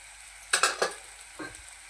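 Onion with red chillies and turmeric sautéed for spinach curry, quiet background sizzle broken by a quick cluster of three scraping stirs, then one more a moment later.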